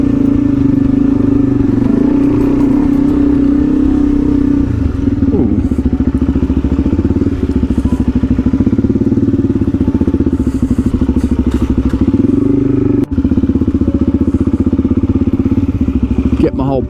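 A Suzuki DRZ400E dirt bike runs steadily on a fire trail in Australia's Blue Mountains, its engine a continuous loud drone close by, with a sharp thump near the end.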